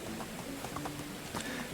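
Donkey hooves trot in the Medieval Dynasty video game, a soft, faint clip-clop rhythm of steady footfalls over quiet ambient background, with no talking.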